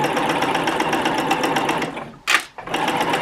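A sewing machine stitching free motion quilting, running in a loud, fast, continuous hum that stops briefly near the end, with a short noisy burst in the gap before the stitching resumes.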